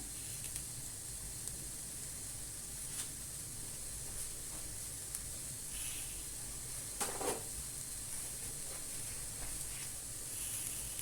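Kaygana, an egg batter with curd cheese and dill, sizzles steadily in a frying pan, a constant soft hiss with occasional faint pops and clinks, no voices.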